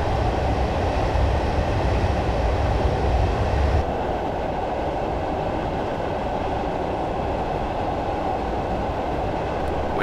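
Class 111 diesel multiple unit coasting with power at idle in Train Simulator 2015 on the Dumfries to Kirkcudbright route; a loud, steady rolling rumble that drops to a lighter hum partway through, with no talking.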